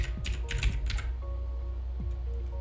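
Fingers tap a computer keyboard while working in Microsoft Word, making faint, irregular key clicks in short clusters over a quiet background hum, with no voices.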